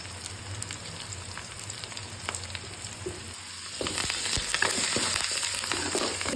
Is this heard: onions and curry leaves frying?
yes